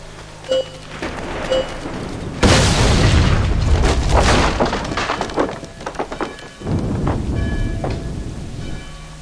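A heavy booming explosion bursts in suddenly and rumbles on with crackling debris, followed by a second loud blast after a brief lull.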